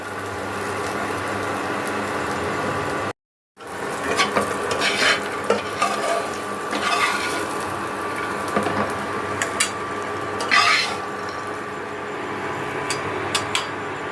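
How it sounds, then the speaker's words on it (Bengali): A mixer grinder grinding fried peanuts with spices gives a steady, loud mechanical whir with rattling. It cuts out briefly near the start, then runs on with uneven surges and clattering pulses. "মিক্সার গ্রাইন্ডে পিষে নেব"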